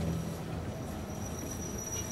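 A train rolls along steadily in a video game, making a continuous low rumble with a thin high whine over it. The sound is even and unbroken, and no one speaks.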